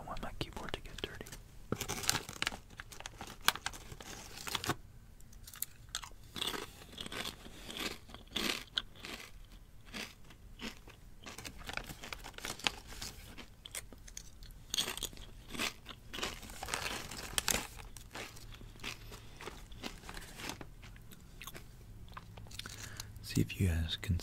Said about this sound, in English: I'm hungry and I have some dirty sweet potato chips